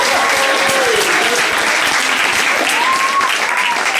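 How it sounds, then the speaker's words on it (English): An audience at a book event with author Mac Barnett and illustrator Jon Klassen breaks into loud, continuous clapping that stays even throughout. A faint voice rises briefly under the applause. "Round of applause for that."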